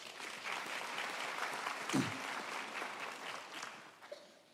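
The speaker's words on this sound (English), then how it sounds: "Once more, let's give Professor Boya a warm round of applause." A crowd at a university graduation ceremony applauds steadily, a dense, continuous patter of clapping that holds for several seconds before easing slightly.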